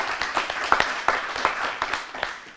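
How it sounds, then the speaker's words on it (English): A small gathering at a government announcement gives a short burst of applause, scattered individual claps standing out sharply over a softer patter that trails off within a few seconds. "Let's give a round of applause to them."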